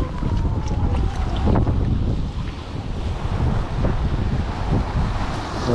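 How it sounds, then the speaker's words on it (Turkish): Strong wind buffets the microphone at the shore during istavrit fishing at Beylerbeyi, a steady loud roar with gusting rumble and water wash, no talking. "rüzgar şiddetini inanılmaz arttırdı"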